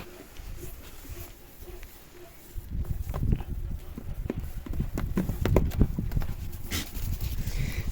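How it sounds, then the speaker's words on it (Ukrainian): Hooves clip-clop with rising intensity as horses prance and jump about, a burst of irregular, fairly close thuds and knocks filling the second half over low outdoor background noise. "Вище всіх, вище всіх, здається, скаче Діна."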